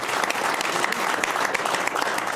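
A studio audience at a French television talk show applauds steadily, with dense, even clapping that fills the whole moment at a constant level and no voices rising above it.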